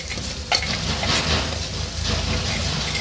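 A spoon stirs turmeric, chili, coriander and cumin powders into snail curry in a hot pan, making a close scraping, bubbling sizzle that runs continuously with a sharper scrape near the start.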